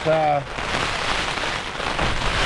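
Heavy rain with strong wind pounds steadily on an old DCF tent during wild camping, a dense, close hiss that stays constant, with a brief tonal sound at the start.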